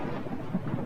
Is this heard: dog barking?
no